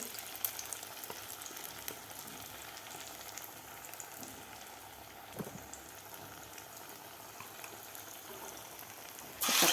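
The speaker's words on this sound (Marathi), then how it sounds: "आपल्याला तळून घ्यायचे आहेत आता आपल्याला लगेचच पलटी करायची नाही" Fasting-style batata vada frying in hot oil, a steady close crackling sizzle with fine bubbling that runs unbroken throughout, a louder burst of noise right at the end.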